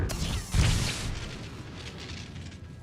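A low booming explosion from the Star Wars: The Old Republic video game hits once, then rolls off into a long, fading rumble. It plays alone at a moderate level.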